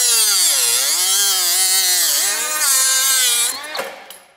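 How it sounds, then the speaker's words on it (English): A loud, shrill cutoff wheel whines through a stainless steel line on a Cobra Mustang, its pitch dipping and rising under load, then spinning down and stopping near the end. "There are a few different ways to cut a stainless steel line."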